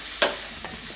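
Tempering spices sizzle in hot oil in a pan for masala mandakki, a puffed-rice snack. A steady hiss is heard close up, with one sharp stirring scrape near the start.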